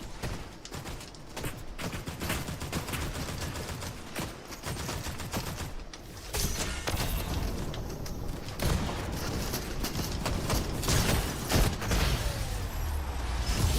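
Shotgun blasts in Fortnite ring out amid dense, continuous in-game gunfire from several weapons, loud and close, with mechanical clatter in the background and no talking.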